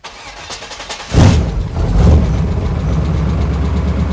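A car engine cranks briefly and then catches, swelling abruptly into a loud, steady idle with a slight rev, heard close up in an engine bay during a high-pressure oil pump swap.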